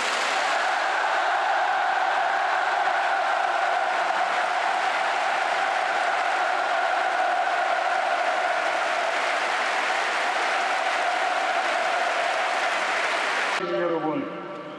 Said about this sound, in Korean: 우리 모두 문재인 대통령에게 열광적인 박수와 열렬한 환호를 보내줍시다.